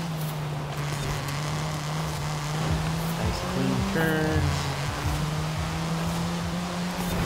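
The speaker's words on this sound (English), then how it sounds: "What have I got in this thing?" Car engine in Forza Horizon 5, driven on a mixed on-off-road route, holds a steady drone with a brief shift near the middle, playing under a man's quick remark.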